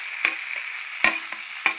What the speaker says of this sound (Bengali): ফুলকপিটা ভালো করে ভাজা নিয়ে জল দেবো।